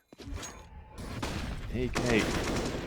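AK rifle fire in a Counter-Strike match on the Train map at an esports event, a few sharp gunshot cracks and impacts in quick succession amid game effects, with a commentator's voice talking over them.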